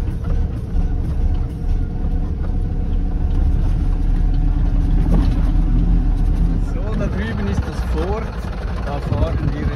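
An expedition truck built as a hotel on wheels grinds over 2.5 m sand dunes in the Tunisian Sahara, its engine droning and labouring steadily for ten seconds while people talk over it.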